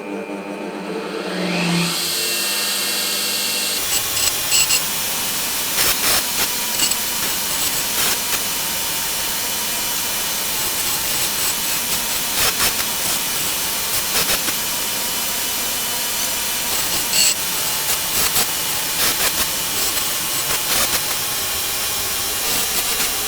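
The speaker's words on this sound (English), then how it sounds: "Now I just have to clean the ends up on the angle grinder." An angle grinder spins up, then smooths the cut ends of bolts with a steady harsh hiss, punctuated by repeated brief louder bursts as the disc bites the metal. No one speaks.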